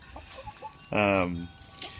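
A molting hen clucks close by, soft low clucks followed by one louder drawn-out squawk in the middle, with faint background noise.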